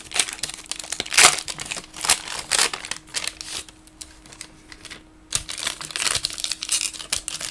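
Old 1993 foil trading card packs are torn and crinkled open up close, with loud bursts of ripping and crackling foil broken by short pauses.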